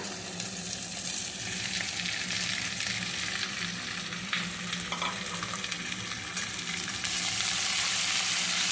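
Ingredients fry and are stirred in a hot pan for a village-style curd curry served with ragi balls. A continuous close sizzle with scraping stirring sounds grows slightly louder near the end, with no talking.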